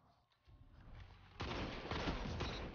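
Video game gunfire during a shooter match: a dense, loud burst of rapid shots that swells into a continuous roaring volley, close and alone.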